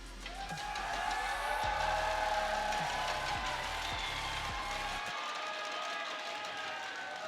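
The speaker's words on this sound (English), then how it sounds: "If you'd like to see them take it, give them a cheer, please." A large crowd at an esports grand final cheers and roars loudly and steadily, with some rhythmic stomping or thumping in the first part that fades out near the end.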